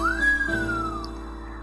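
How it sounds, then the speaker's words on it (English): A single rising-then-falling whistle by a person in the Asagao Academy video game, clear and close, held about a second before fading, followed by a brief thump. "Mai whistled."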